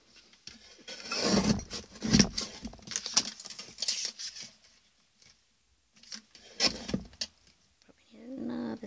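A paper trimmer cutting the border from a card for a Scandinavian-style gift box, with scraping, sliding and rasping blade strokes in uneven bursts, a pause, then more rubbing and handling sounds close by.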